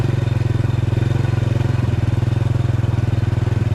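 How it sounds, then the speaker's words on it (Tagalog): A motorcycle engine putters steadily at a constant pace with a rapid regular pulse, heard close up as if from the rider's seat, riding through rural Angat, Bulacan, Philippines. "Nakasakay na tayo sa motor."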